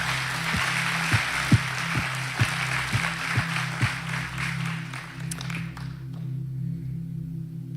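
A church congregation applauds during a morning service, a broad wash of clapping with a few sharper rhythmic claps over a low sustained musical tone, fading away after about five seconds.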